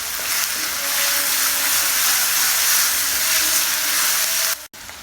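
Mint and coriander leaves fry in a pan for coconut milk ghee rice, giving a steady, loud, broadband sizzle and hiss that holds for about five seconds before cutting off abruptly near the end.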